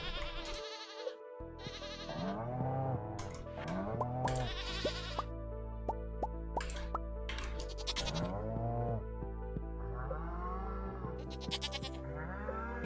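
Goats bleat in Stardew Valley, several wavering bleats over looping game music with chimes and soft effects, fairly clear and repeated through the stretch.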